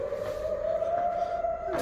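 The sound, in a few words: air raid siren sounding during rocket attack on Tel Aviv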